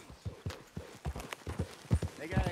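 Horse hooves clip-clop at a steady walking rhythm in the video game Red Dead Redemption 2, close and distinct, with game characters talking over the footfalls.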